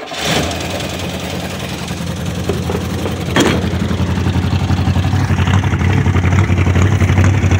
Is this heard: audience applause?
no